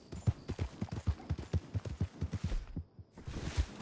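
Horse galloping in Red Dead Redemption 2, rapid heavy hoofbeats thudding in a fast rolling rhythm, close and loud, with a brief lull before the hooves resume.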